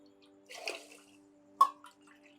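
Water poured from a cup into a pot of moong dal and rice for porridge, two short splashy pours close by with a quiet gap between them, no talk over it.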